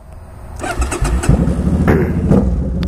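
A Japanese motorcycle engine cranks and catches, then settles into a rising, rumbling idle with a couple of revs, loud and close with no voices.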